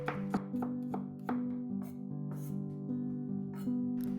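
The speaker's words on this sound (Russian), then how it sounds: "Дополнительно еще измельчим чеснок, порубим его помельче." A knife taps quickly and repeatedly on a cutting board, finely chopping garlic in an uneven rhythm over a steady low hum.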